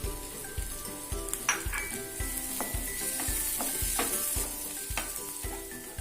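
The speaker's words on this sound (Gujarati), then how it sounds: "હવે સારી રીતે આને આપણે મિક્સ કરી લેશું." Fried onion, capsicum and tomato for pav bhaji are stirred in a pan, with a bright continuous sizzle broken by regular scraping strokes about twice a second.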